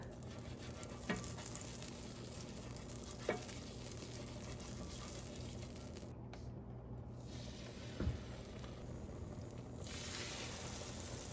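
Bourbon vanilla French toast cooking low and slow in a butter-brushed pan gives a quiet, even sizzle that runs steadily, broken by a few soft clicks and taps, with no talking.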